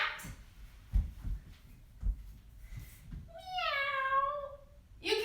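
Children imitate a cat meowing during a kids' yoga session, one drawn-out wavering meow rising out of quiet room noise and soft thumps, followed by a shorter one at the end.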